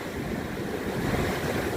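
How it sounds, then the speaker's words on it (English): Rough, stormy sea off the North Wales coast, with white water and heavy wind, roaring as a dense, constant wash of surf and gusts buffeting the microphone, loud and unbroken. "there's a lot of white water, a lot of rise and drop on the sea"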